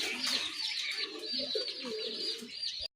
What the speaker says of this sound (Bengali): এটা অরিজিনালি দেশি কবুতর, একদম পিওর হোয়াইট